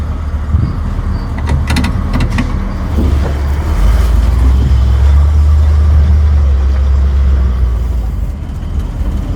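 A 1955 Buick Special engine revving, with a few clicks and clatter early on, then a loud low engine roar swelling and holding steady nearby.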